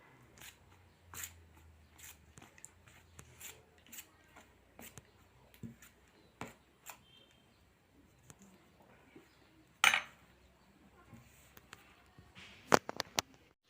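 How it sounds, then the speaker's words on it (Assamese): A spoon works dry powdered milk and sweet ingredients together in a bowl with no liquid, producing quiet, scattered taps and scrapes, plus a few sharper knocks toward the end. "এইদৰে সকলোবিলাক ভালদৰে মিক্স কৰি ল'ব লাগিব।"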